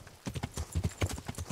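Horse hooves in the video game Kingdom Come: Deliverance clop in a quick, even walking rhythm, about a dozen distinct footfalls, fairly close and moderately quiet with no talking over them.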